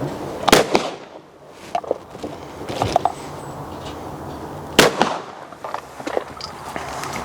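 Shotgun blasts during a beginner's shooting lesson, two loud sharp reports spaced a few seconds apart, each with a short echoing tail, set against outdoor ambience.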